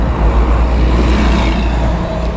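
Heavy roadway noise from trucks passing on a road in Bull Bay, Jamaica, a loud, close, low rumble that continues throughout.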